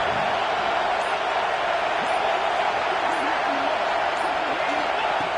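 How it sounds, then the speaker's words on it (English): A stadium crowd at a Notre Dame versus LSU football game roars in a loud, steady, continuous wash of cheering as the defense faces a red zone stand. "here comes the noise. This crowd is trying to inspire this defense to make a big red zone stop"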